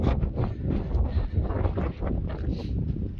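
Wind buffets the microphone at the Red Tarn campsite on Helvellyn, a close, continuous rumbling roar with rustling gusts and no voices.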